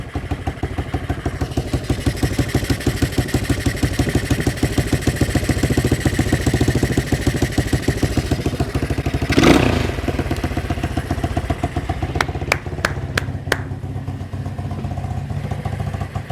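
Honda XL185S motorcycle engine, left sitting for a long time, idling close by with a rapid, steady single-cylinder putter, a brief louder rustle and thump partway through, then a few sharp clicks near the end.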